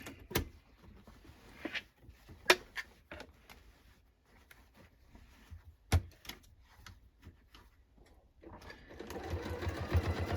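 Sparse clicks and knocks come from a sewing machine and its handling while stitching a denim jacket in the ditch of the original stitch line. A steadier, louder run of stitching starts near the end.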